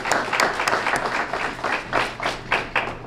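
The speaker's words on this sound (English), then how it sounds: "Let's give all of our scholarship donors a great round of applause." Scattered audience clapping for scholarship donors at a student awards event, with uneven individual claps popping out in an irregular rhythm, moderately close and fairly sparse.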